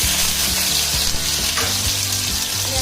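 Chopped onion frying in oil with whole garam masala, a loud, dense sizzle with crackling and a brief stirring scrape, over a low, pulsing hum in the background.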